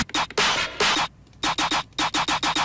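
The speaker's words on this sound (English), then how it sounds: "there's a few snares that sound kind of like this" Fill snare drum sample from a trap metal beat: a fast run of crisp, noisy snare hits in uneven rhythm, bursts then a short gap then a rapid even roll, loud and dry.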